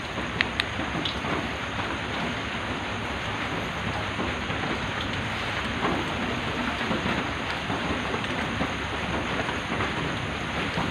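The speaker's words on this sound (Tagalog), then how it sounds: "naka-raincoat pa kami kasi malakas ang ulan" Heavy rain pours steadily at a public cemetery at night, a dense, unbroken roar of drops that fills the space evenly from start to finish.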